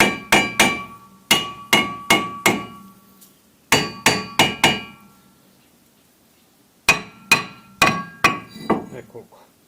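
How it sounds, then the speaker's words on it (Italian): A hammer lightly taps a rusted front brake part on a Nissan Micra K14, producing sharp metallic strikes in quick clusters of two to four with short pauses between groups, close and loud. "Ci possiamo aiutare anche con un martello per poterlo togliere. Battiamo leggermente."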